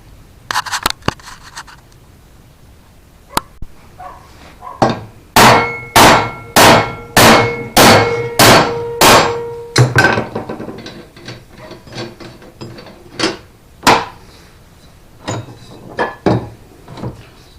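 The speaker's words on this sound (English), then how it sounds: "tap that nut with a hammer, and that will drive that down" Metal rings sharply as a hammer strikes a nut on a John Deere D105 mower deck about eight times in a steady rhythm, close by, between scattered lighter taps and clinks.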